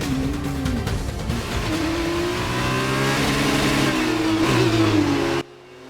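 An F2 race car engine revving hard in F1 2019, with a loud, high whine that climbs through gear shifts, punctuated by changes in pitch, before cutting off abruptly near the end.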